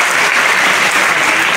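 Loud, dense applause from a large audience, including children, at a Damoh education department event honouring a teacher, steady and sustained throughout with no voices over it.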